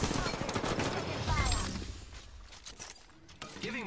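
Dense gunfire from a close Apex Legends match crackles in a rapid burst of shots that thins out, followed by scattered mechanical clicks and shorter bursts amid game effects.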